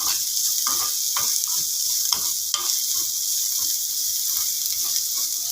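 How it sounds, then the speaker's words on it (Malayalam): Mushrooms sautéing in butter and garlic in a pan, a steady close hiss of sizzling with light scraping stirs running under it throughout, no voices. "അപ്പോൾ നല്ലോണം ഒന്ന് ബട്ടർ ഗാർലിക്കുമായിട്ട് നല്ലോണം ഒന്ന് സോട്ട് ചെയ്യണം."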